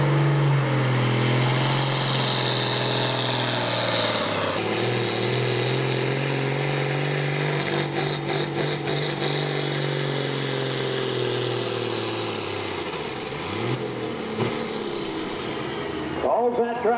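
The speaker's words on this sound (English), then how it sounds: "The tractor just did not want to come completely to life for him there towards the middle portion of the track." A diesel pulling tractor roars down the track at a pulling event, a loud continuous engine note that holds steady for most of the run, then sags and falters near the end.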